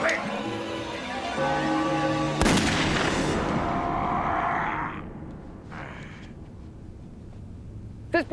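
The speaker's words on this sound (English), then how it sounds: "Repeat, a single gunshot." A single sharp gunshot cracks out in a TV crime drama, loud and close. Before it, tones of a musical score play and voices speak. A trailing rumble and scattered noises follow.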